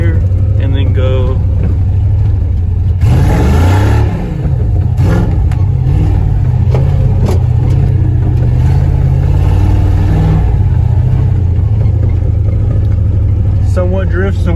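A 1997 Ford Mustang engine revs hard while drifting in a yard, loud and close, with rising and falling surges over steady engine roar and a voice talking over it.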